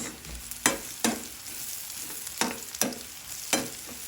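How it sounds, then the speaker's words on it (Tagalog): Onions sautéing in a pan, a soft steady sizzle broken by five or six distinct scraping strokes of a spatula at a slow, uneven rhythm. "papupulahin lang yung sibuyas"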